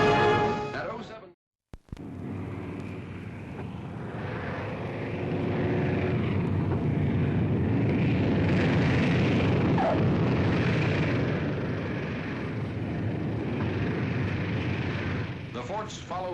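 World War II B-17 Flying Fortress bombers with their escort aircraft on a shuttle bombing mission in 1944, a loud steady roar of piston engines holding for most of the stretch after a brief cut at the start.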